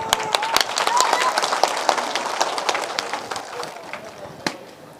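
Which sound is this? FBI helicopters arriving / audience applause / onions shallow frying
audience applause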